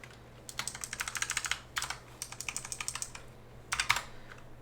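Fingers type quickly on a computer keyboard in several bursts, with a steady run of close, crisp key clicks and brief pauses between bursts, over a low constant hum.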